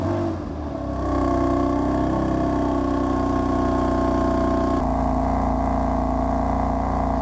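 A BMW M4 with its S55 twin-turbocharged straight-six idles steadily nearby, a loud, even, droning hum that rises slightly after the first second and holds constant, with a subtle shift in tone near the end.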